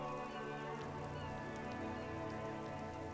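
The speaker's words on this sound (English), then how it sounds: "Rain falls down on the world." Steady rain falling over a grey city by the water in the game Disco Elysium, a soft continuous patter under a low humming drone with faint scattered drops.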